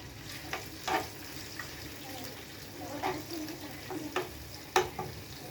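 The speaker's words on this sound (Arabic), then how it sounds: "جبنا شوية زيت وهنحط الثوم ونقلب" Garlic frying in oil while being stirred, a soft low sizzle broken by several scraping strokes of a spoon against the pan, fairly quiet and close.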